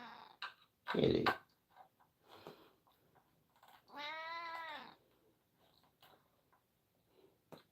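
A house cat meows once, a drawn-out harmonic call in the middle, close to the microphone, with a few soft clicks and thumps around it in an otherwise quiet indoor room.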